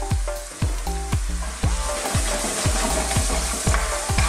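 Olives drop into a pan of chicken and cream cooking for gnocchi, raising a loud, close sizzle with rhythmic stirring and scraping knocks at regular intervals.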